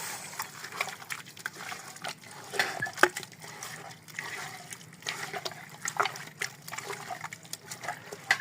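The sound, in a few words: mixing beef biryani marinade with tomato sauce and milk powder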